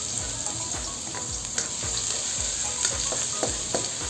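Garlic sautéing in a pan crackles in a loud, constant sizzle, broken by regular stirring scrapes about every half second, close up with no voices.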